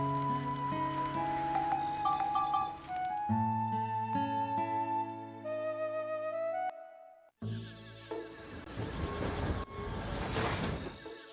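A train in the video game Dark Cloud 2: tuneful game music with steady tones gives way after a short gap to a loud, noisy rush of rolling rail sound that swells toward the end.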